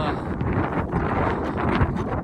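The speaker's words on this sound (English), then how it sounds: "this is the summit, and it is windy up here" Strong wind buffeting the microphone on the 13,510 ft summit of Trinchera Peak in Colorado's Sangre de Cristo Mountains, a continuous roar that gusts louder at moments, with no talking.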